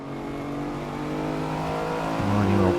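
In a night street race through Barcelona in a video game, a Lamborghini's 12-cylinder engine drones loud and steady, its pitch climbing and then jumping as the car accelerates and shifts gears.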